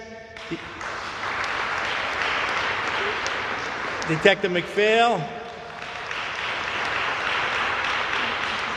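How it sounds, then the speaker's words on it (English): An audience at a police junior graduation ceremony applauds with sustained, even clapping across a hall, briefly interrupted by a voice announcing a name midway before the applause continues. "we'll give them an applause"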